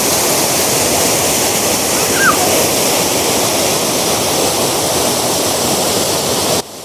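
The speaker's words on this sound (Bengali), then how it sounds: "ছোট ওয়াটারফলস কিন্তু জলের স্পিড দারুণ আছে" Rambijora waterfall, a small fall with fast-flowing water, roars as a loud, steady, dense rush that does not let up, with no voices.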